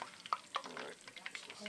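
Onions go into a hot pan for Mongolian beef, giving a close, moderate sizzle with quick stirring clicks and scrapes over a brief moment.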